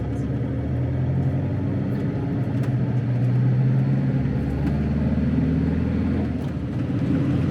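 Campervan moving slowly along a road, a low steady engine and road rumble filling the cabin at an even level, with voices talking faintly over the drone.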